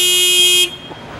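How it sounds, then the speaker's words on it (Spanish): Horn on a homemade vehicle with a small 110 motor and battery at the back, one loud, close, steady electric beep held for about half a second, then stopping abruptly into quiet. "Tiene esta bocina."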